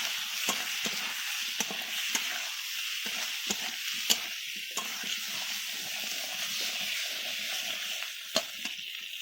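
Chili and turmeric spice paste frying in a pan for a fish curry, a constant sizzle punctuated by repeated sharp clicks and scrapes of a spoon stirring, close and without speech.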